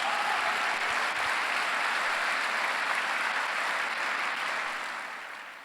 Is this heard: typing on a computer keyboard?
no